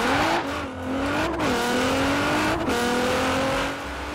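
A car's engine in Forza Horizon 4 revs and shifts during a launch-control start, its steady tone stepping down in pitch at a few gear changes, loud and close with no talking.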